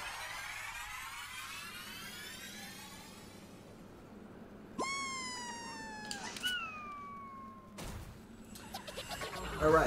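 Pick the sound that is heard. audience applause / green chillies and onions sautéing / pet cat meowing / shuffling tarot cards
pet cat meowing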